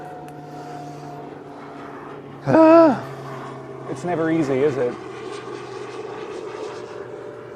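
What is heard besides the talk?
small airplane flying overhead near a small airport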